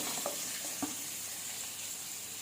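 Onion dropped into a pan of frying chana dal, giving a steady, moderately quiet sizzle with a couple of brief clicks and stirring taps near the start.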